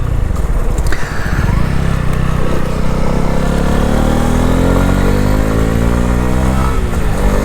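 A 2018 Honda CB125R motorcycle engine runs loud and close, revving up steadily with a rising whine after a brief dip, continuous throughout with no talking.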